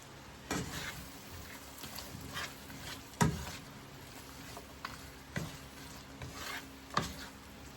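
Pork belly stirred in a pan gives quiet scraping strokes and a sharp clank of utensil on metal, faint and intermittent over a low sizzle, with no talk.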